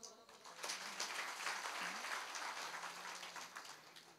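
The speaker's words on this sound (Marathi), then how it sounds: "दोघं तिथून अशा टाळ्या वाजवल्या." Hand claps from a small group ring out in quick, irregular succession, fairly close and steady for the whole stretch, with a brief voice-like murmur partway through.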